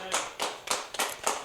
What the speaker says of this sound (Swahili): Ni wangapi wanaamini wapigie Yesu makofi?